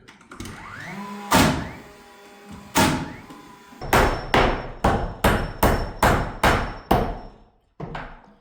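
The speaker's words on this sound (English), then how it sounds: "This nail gun keeps jamming up the plunger, the driver of the nails" A nail gun with a jamming driver shoots nails into wooden studs while a corner store's walls are framed. About ten sharp, loud bangs ring out close by, first spaced apart and then in a quick run, with no talk.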